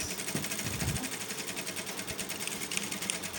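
Sewing machine stitching a garment neckline with a narrow seam under half an inch, a quiet, steady rapid buzz of needle strokes running continuously at close range.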